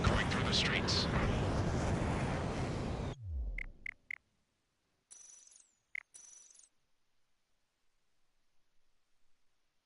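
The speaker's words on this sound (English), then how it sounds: "Gunfire and the roar of jets echoing through the streets." In a video game, a loud roar of jets and gunfire fills the first few seconds and cuts off abruptly, followed by a few sharp isolated bangs and short bursts, then near silence.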